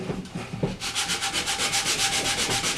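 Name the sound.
sanding wood with 60 grit sandpaper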